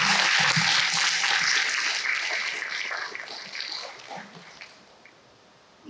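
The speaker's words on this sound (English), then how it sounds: "give yourselves a well-deserved applause as well" Graduating sixth-grade class applauding at a school ceremony, a broad wash of clapping that starts loud and gradually thins and fades over several seconds.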